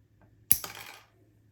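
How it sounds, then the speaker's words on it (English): Wire cutters snip bonsai wire while a dwarf jade (Portulacaria afra) shohin bonsai is pruned, giving a single sharp metallic click up close in a quiet room. "I've got my wire cutters here, so let's go ahead and trim that off"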